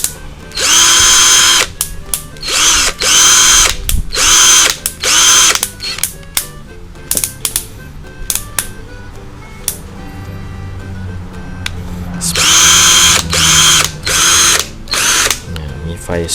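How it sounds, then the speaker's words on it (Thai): An STR 95V cordless impact drill spinning a nut with its supplied socket, loud repeated whirring bursts with ratcheting impact clatter, stopping and starting, and someone talking in the quieter gaps. "เดี๋ยวมาลองหมุนน็อตเฉยๆนะครับตัวนี้"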